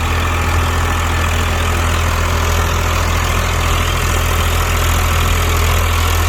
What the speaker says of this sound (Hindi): और ये आप देखो रोटावेटर का परफॉर्मेंस